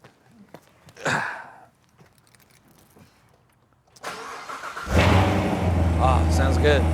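A car engine cranks briefly, catches and settles into a loud steady idle that rises slightly, preceded by quiet handling noises.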